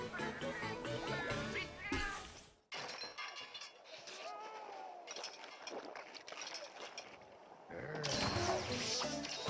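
A cat meows in the Monster Hunter 4 Ultimate video game, with a few shrill mews over busy game music and effects, including crashing and breaking bursts at the start and end.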